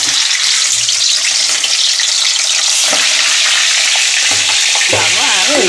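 Boal fish frying in hot oil, a loud dense sizzle with sharp spluttering pops close by, plus a few scrapes and clinks of a spatula toward the end.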